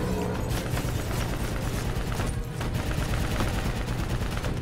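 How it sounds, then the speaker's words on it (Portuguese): Dense gunfire in the Call of Duty: Black Ops III game, a loud and continuous fusillade of overlapping rapid shots that runs through the whole stretch with no pause. "quem é que está a disparar?"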